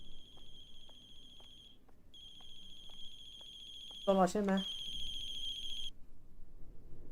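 A telephone rings in the horror video game The Closing Shift with repeated bright electronic ringtone bursts in a steady pattern, then stops. A person speaks briefly partway through.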